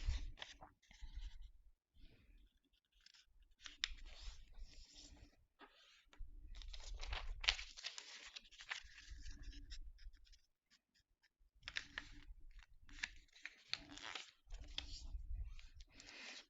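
A square sheet of paper is folded and creased by hand in separate bursts of close rustling and pressing, with short quiet gaps between the folds. No one speaks.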